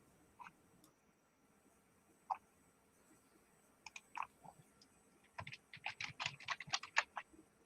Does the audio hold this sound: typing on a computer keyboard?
yes